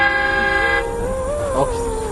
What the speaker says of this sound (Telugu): మన ట్రైన్ వెళ్ళిపోతుంది